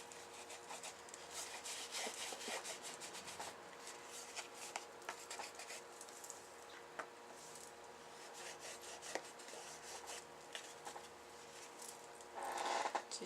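Clear finishing paste is rubbed over a craft piece with a continuous soft scuffing and brushing texture close by, swelling louder near the end.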